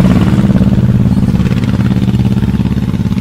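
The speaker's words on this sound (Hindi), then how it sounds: "अपनी मोटरसाइकिल पर बैठकर वहां से निकल गया था" A motorcycle engine runs steadily and loudly up close, a continuous mid-pitched thrum with a rapid clattering pulse and no pauses, as the rider sets off in a village at dusk.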